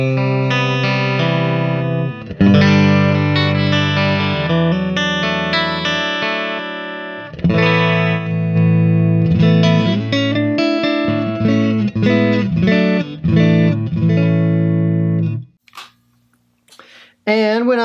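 Clean electric guitar tone through a Fender Deluxe Reverb amp on its bright vibrato channel, playing continuous chords and single-note lines up close and loud, then trailing off into a few brief quiet notes near the end.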